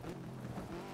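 Rally car engine revving hard in the racing game DiRT 2, a steady droning motor note with shifting pitch running throughout, loud and close with no talking.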